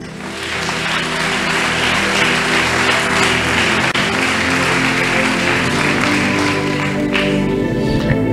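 A church congregation applauds during a service, a loud, dense, continuous wash of clapping that holds steady throughout, with tonal sound running beneath it.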